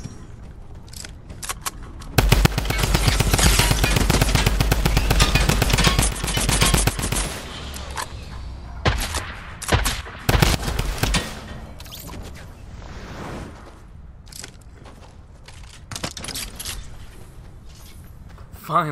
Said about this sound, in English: Finally found the minigun.